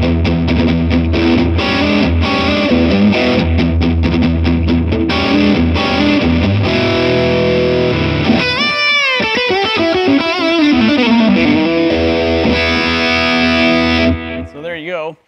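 PRS Private Stock Hollowbody II 594 electric guitar with Brazilian rosewood, played through a pedal at full gain: loud, heavily distorted chords ring out continuously, then give way to wavering sustained notes and feedback-like tones before cutting off.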